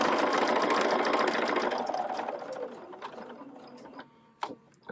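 A sewing machine runs in a fast steady whir while stitching quilt block pieces, then slows and fades out, ending with a few faint mechanical clicks.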